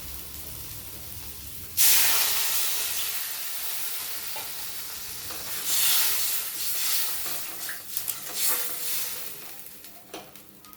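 Snail curry hisses into a loud sizzle the moment water hits the hot spiced pan, then bubbles and crackles steadily with occasional stirring bursts, close and without talk.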